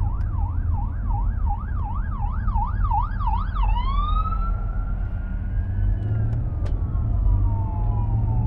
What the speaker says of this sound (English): I got an ambulance here, I got to pull over.